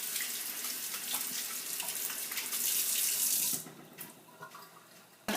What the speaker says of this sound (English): I'm washing the thyme